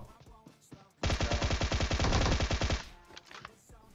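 Rapid automatic gunfire in the battle royale game PUBG, a loud close burst of quick repeated shots lasting about two seconds, with quieter game sounds before and after.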